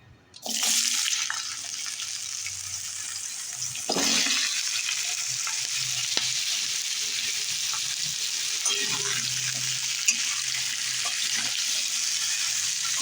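Chopped, washed vegetables tipped into a pan of hot oil with fried whole spices for a vegetarian dish, a sudden loud steady sizzle of frying that carries on close and continuous, with a few light stirring scrapes.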